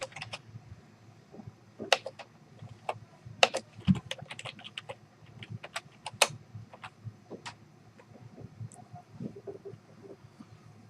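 Fingers tap on a computer keyboard in a quiet room, short irregular bursts of crisp clicks with brief pauses between, close and distinct, no voices.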